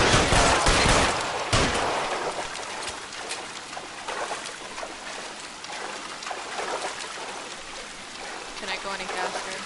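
Rapid shotgun gunfire in the video game L.A. Noire, a dense barrage of overlapping blasts that is loudest at the start and keeps going throughout with clattering bursts.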